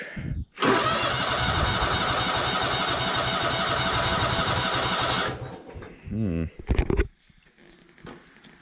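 John Deere GT245 lawn tractor engine cranking with the choke on, a loud continuous rapid starter churn for about five seconds, then a few short stuttering bursts before stopping.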